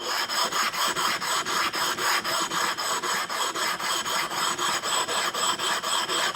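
A water stone is rubbed back and forth to flatten it, a rhythmic rasping scrape that repeats steadily about three times per second, close and even, with no talking.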